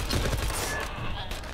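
Rapid video game gunfire, a short dense burst of shots over a second and a half, close and loud alongside voices.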